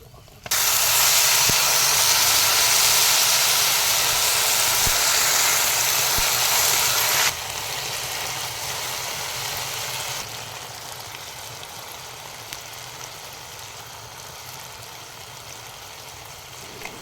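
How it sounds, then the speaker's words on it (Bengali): Sweet jujube (kul) sizzles as it fries in a pan for pickle, a loud steady hiss that drops sharply when water is poured in, then settles into a quieter simmering sizzle. "এই যে আমি এইটাকে একটু ভেজে নিচ্ছি, তার মধ্যেই জল দিয়ে দেবো।"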